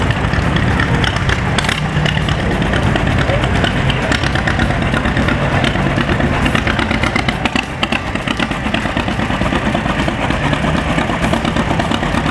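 A Massey Ferguson 35 tractor engine runs steadily and loudly up close, a constant mechanical chug filling the whole stretch without pause.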